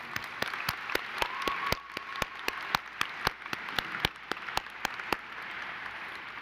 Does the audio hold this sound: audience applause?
yes